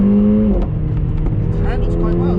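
A Mercedes A45 AMG, a 381 bhp four-wheel-drive hatchback on Michelin Pilot Sport tyres, drives steadily round a roundabout, its engine a constant nearby drone with tyre and road noise, and a voice talks over it.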